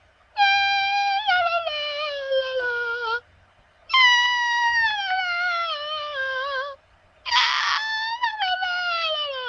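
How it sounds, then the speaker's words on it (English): A person attempts strained, very high-pitched singing in three long, wavering, squeaky bursts separated by short pauses, sounding almost like a cat's meow, loud and close with no other talk. "that last one was very straining and definitely did not sound like singing"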